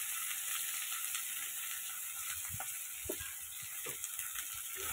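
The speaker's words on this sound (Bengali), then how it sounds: "সবজিগুলো ভালো করে একটু ভেজে নেব।" Vegetables frying in a pan with panch phoron spices, a steady soft sizzle with a few faint clinks and scrapes of stirring, heard close and alone without talk.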